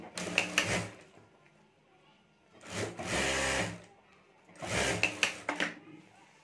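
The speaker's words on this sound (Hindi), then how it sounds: "और अब यहाँ ऊपर हमें सिलाई कर देनी है" Sewing machine stitching a zip and lining onto a homemade sling bag, running in three separate bursts of rapid mechanical whirring with short pauses between.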